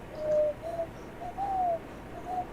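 A voice imitates an owl, giving several soft hoots in a rhythmic series, moderately close, with a low hum underneath.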